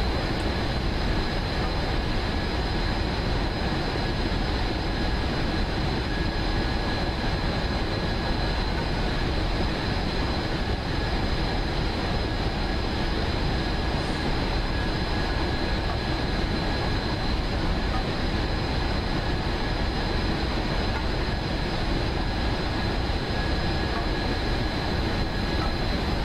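A Union Pacific gas turbine locomotive in Train Simulator 2016 runs on the Sherman Hill line, passing a slow coal train: a loud, steady turbine roar with a thin high whine that holds unbroken throughout, with no voices.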